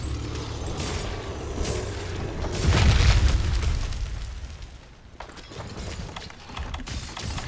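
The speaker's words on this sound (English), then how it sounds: "Let's see if I can't shoot that cannon." A deep booming cannon blast in Monster Hunter: World swells and fades over a couple of seconds amid mechanical clanking and ratcheting, with further rattly bursts afterward.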